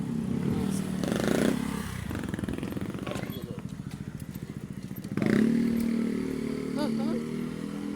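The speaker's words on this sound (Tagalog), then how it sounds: "Binugahan ng tambutso." A motorcycle's exhaust blasts past on a residential street, its engine drone rising, dipping, then surging loudly again near the listener, with faint voices around it.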